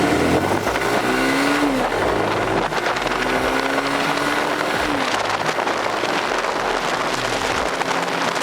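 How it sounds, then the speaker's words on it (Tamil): Engine of a TVS Apache RTR 180 2V motorcycle revs up through the gears at full throttle toward top speed, with rising pitch sweeps between shifts and heavy wind roar, loud and close from the saddle. "நெக்ஸ்ட் இந்த வண்டி இன்ஜின் ஸ்ட்ரெஸ் இல்லாம மேக்ஸிமம் எவ்வளவு டாப் ஸ்பீட் போகுதுன்னு பார்க்கலாம் வாங்க."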